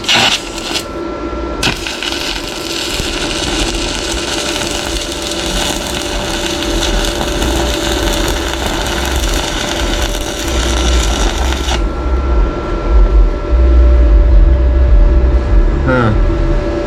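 A YesWelder Flux 135 PRO flux core welder lays a bead, giving a steady, loud, crackling buzz for most of the stretch with a low rumbling undertone, and it grows slightly louder toward the end.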